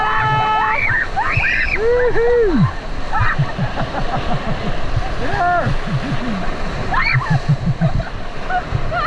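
Whitewater rapids splash and slosh around a raft on a river, a steady rushing wash under loud whoops and cheers from the crew throughout.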